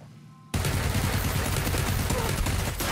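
Sustained automatic gunfire from the battle game PUBG bursts in suddenly after a quiet half second, dense and loud rapid shots continuing almost to the end with no talk over it.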